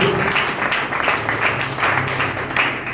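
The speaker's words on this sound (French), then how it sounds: "Est-ce que tu peux applaudir pour Jésus?" A church congregation applauds during a French-language sermon, a steady wash of many hands clapping close by for the full stretch, with a faint low hum of voices underneath.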